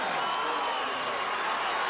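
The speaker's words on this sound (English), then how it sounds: "the crowd is yelling so loud here I can't hear myself think." A packed crowd at a 1979 Iowa State versus Iowa NCAA college wrestling dual roars and yells without a break, loud and dense, with no gaps.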